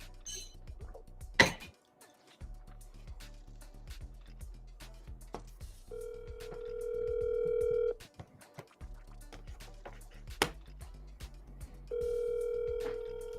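Telephone dial tone and touch-tone dialing while calling about a property: sharp clicks and short beeps, then two long steady dial tones separated by a brief gap, with quiet background clatter.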